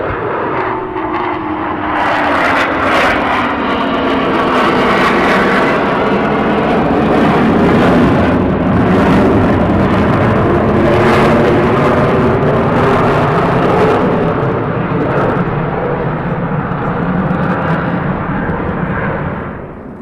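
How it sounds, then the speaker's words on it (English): F-15 fighter jets pass overhead at RAF Lakenheath in pairs, a loud, continuous engine roar that swells and holds for the whole stretch before easing slightly at the end. "We do have some F-15s over the top of us any second now."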